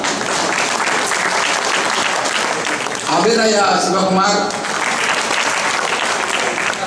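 Audience at a temple festival celebration applauding steadily as children's names are read aloud, sustained clapping continuing under a voice on a PA.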